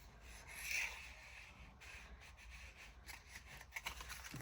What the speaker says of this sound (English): just sand over it so it blends in